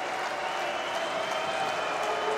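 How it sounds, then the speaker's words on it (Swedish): Leksand supporters roaring at an ice hockey match against Linköping, a steady broad wash of crowd cheering and applause heard from a distance, with no pause. "då är det nästan som det återigen då kommer ett sånt där jubel från leksingarna"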